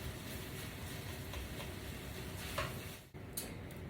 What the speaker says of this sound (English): Gonna let all this cook up for just a little bit.